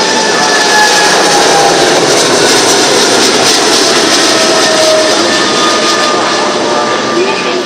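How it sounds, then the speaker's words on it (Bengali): An airplane powers along the runway at Sylhet airport to take off for Dhaka, its engine a loud, steady roar that fills the whole stretch without letup, with faint voices under it. "দেখতে পাচ্ছেন এই যে বিমানটি ইতিমধ্যে রানওয়েতে এসেছে"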